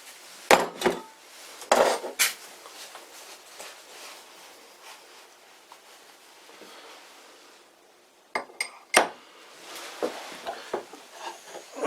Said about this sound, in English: A few light whacks with the nylon hammer, and that's just done.